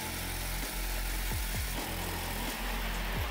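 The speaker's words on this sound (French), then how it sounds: "on va passer à la découpe, équipée d'une scie sauteuse avec une lame métal" A jigsaw with a metal blade buzzes steadily through a van's sheet-metal body, a loud continuous rasping drone with low hum beneath, no voices.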